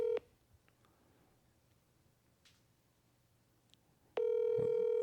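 Telephone call being placed, a brief touch-tone beep at the start, a few seconds of quiet line, then a loud steady ringback tone filling the end.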